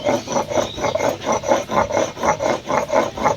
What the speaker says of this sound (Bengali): দেখো সুন্দরভাবে আমি মশলাটা করে নিচ্ছি শিলনোড়াতে